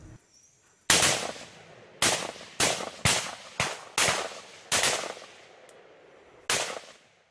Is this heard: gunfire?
yes